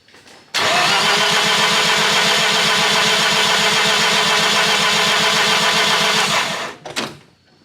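The rotary engine of a Suzuki Samurai cranks steadily with its fuel pump relay pulled for a compression test, a loud, close, even rhythmic churn lasting about six seconds before cutting off.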